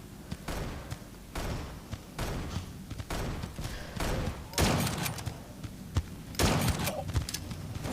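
Gunfire in the mobile shooter game Gun of Boom comes as repeated bursts of shots and thumps, some louder clusters midway and near the end, packed tightly with little pause between them.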